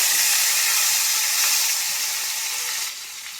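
Onions hitting hot oil seasoned with fried panch phoron five-spice, a loud steady sizzle with crackling that eases and drops in level near the end, no voices.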